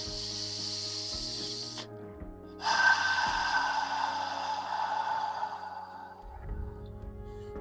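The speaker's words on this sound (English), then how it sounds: "begin another full deep inhale" Long, breathy inhale and exhale during a guided deep-breathing exercise, a steady airy rush that pauses briefly before a second, fuller breath, close and with no talking.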